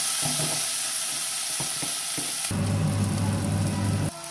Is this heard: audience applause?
no